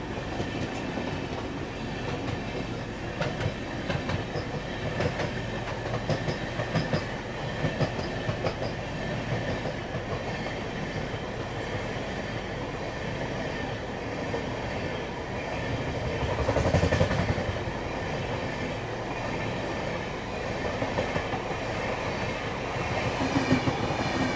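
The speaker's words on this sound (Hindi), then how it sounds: "यहाँ पे क्रॉस हो रही है दरभंगा अमृतसर एक्सप्रेस" The Darbhanga Amritsar Express passes close by with a steady rumble and rhythmic clickety-clack of wheels over rail joints, swelling briefly louder midway, heard from a moving train.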